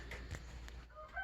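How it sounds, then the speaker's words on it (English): Rooster crowing outdoors in the morning, a fowl call with short bursts rising over a steady low background hum, moderately faint, with no talking. "if you hear a rooster crowing in my ear"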